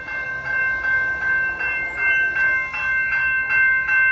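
CSX freight train with a YN2-painted CSX leading locomotive passing at Île-Perrot, Quebec, a steady loud rumble with rhythmic wheel clatter and sustained tonal squeal or horn-like hum throughout, close by.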